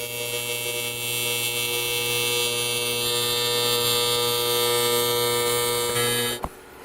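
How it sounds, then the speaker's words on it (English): Welding a joint on a shaped metal panel gives a steady, loud electric hum and buzz that holds for several seconds. It ends with a brief click and a sudden drop. "So I can go ahead and finish weld this now."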